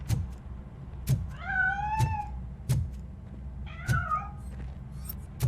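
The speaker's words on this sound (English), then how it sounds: "That cat must be hiding inside." Cat meowing in the video game RoboCop: Rogue City as it escapes through a narrow passage: two drawn-out, rising-and-falling meows over a steady low background hum, punctuated by sharp repeated ticks.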